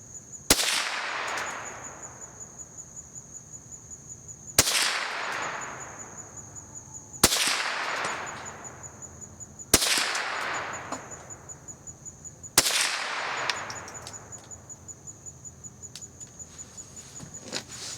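Five sharp, loud cracks from a Glenfield Squirrel Stock .22 rifle fired at cans, evenly spaced a few seconds apart. Each shot leaves a short ringing tail, with a steady faint ticking in the background.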